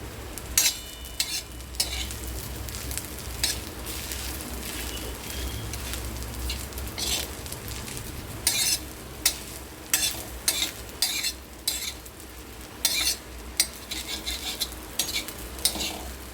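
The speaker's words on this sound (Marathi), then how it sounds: "चायनीजसारखा आपला हा फ्राईड राईस बनतो" Egg fried rice is stir-fried hotel-style in a pan: a steady close sizzle runs throughout, broken by frequent rhythmic scrapes and clanks of a spatula against the metal. No voices are present.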